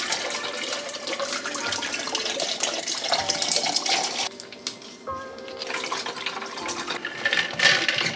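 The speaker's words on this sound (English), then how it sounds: "I'm gonna add some water into my Stanley." Tap water runs steadily into a Stanley cup filled with ice, a loud continuous splashing pour with a brief pause midway before the flow resumes, close up and without speech.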